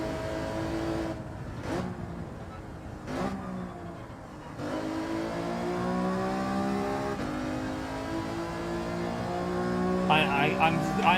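A racing car's engine in Gran Turismo 7 revs and drones steadily, rising and falling through gear changes with a couple of brief cuts, while someone talks over it throughout.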